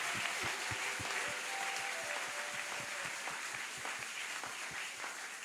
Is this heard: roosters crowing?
no